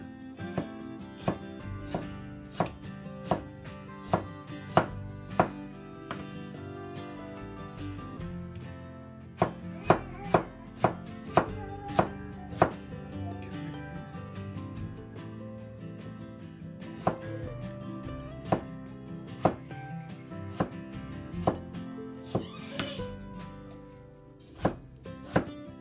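Vegetables for tiger salad are sliced very thin with a knife, the blade tapping the cutting board in quick, fairly regular chops over soft background music, with a brief pause partway through.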